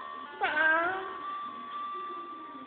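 A person imitates a cat's meow, giving one drawn-out, wavering meow that rises and then trails off, close and clear in a quiet room.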